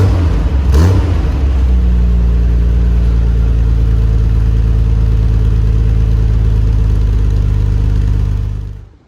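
A Nissan R34 GTR on its stock muffler holds a steady, loud, deep exhaust drone after a brief rev at the start, then cuts off near the end.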